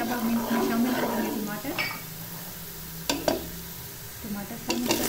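Curry leaves, star anise and garam masala sizzle in hot oil while being stirred for a biryani base, a close, steady fry with occasional sharp clinks of a spoon against the pan.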